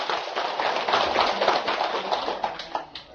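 Applause from a lecture audience at a Buddhist temple talk, a steady wash of many hands clapping at moderate volume with scattered sharper claps, continuous for a few seconds.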